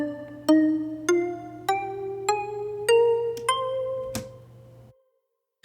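A C Aeolian natural minor scale played one note at a time on a bright pitched instrument, the notes climbing steadily at an even pace, each struck note ringing briefly, with a low steady hum underneath and a short click before silence.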